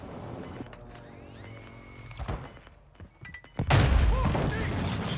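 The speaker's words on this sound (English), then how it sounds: "Little boom goes a dynamite action, huh?" A dynamite trap goes off in Warzone 2 with a sudden loud, heavy blast that follows quieter game tones and clunks, then a sustained rumbling roar.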